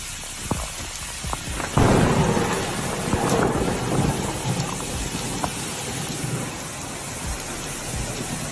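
A thunderstorm with a steady heavy downpour of rain, punctuated by a loud rumble of thunder early on and fainter rolling rumbles afterward, with no voices.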